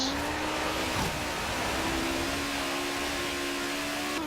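Audi Quattro S1 Group B rally car in Forza Horizon 3, engine holding a steady high drone at speed with a brief gear-change dip near the start, loud and continuous with no talk.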